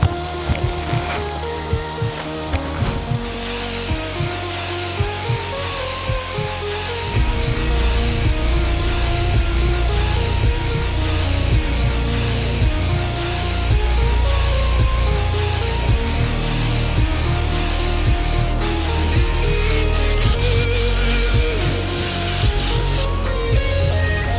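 A loud, continuous hiss of an undercoating spray gun with a large tip blasting bedliner onto a Ram 2500 pickup, steady and close for the whole stretch with slight shifts in tone.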